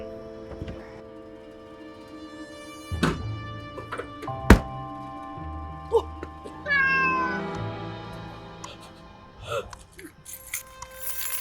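A cat meows in a drawn-out, rising call partway through, set among thumps, scattered clatter and faint background voices.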